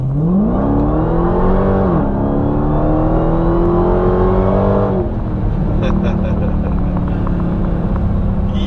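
A 2018 Dodge Challenger Hellcat engine revs hard nearby with traction control off, pitch climbing and holding high, then dropping into a rough rumble as the tires break loose in a burnout.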